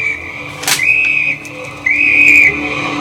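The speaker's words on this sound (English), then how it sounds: "This kind of whistle has been used 100 years ago." A lifeboat survival kit whistle blown twice, two shrill sustained blasts of about half a second each, loud and close, with a sharp noise just before the first blast.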